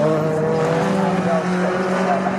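Clubmans sports prototype race cars at Snetterton sweep past with a steady, loud engine drone and a shifting whine, a continuous close roar with a commentator's voice running underneath.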